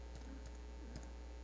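Soft, sparse keystrokes on a computer keyboard while entering notes in Sibelius music notation software: a few quiet, separated clicks over a steady low hum, with no talking.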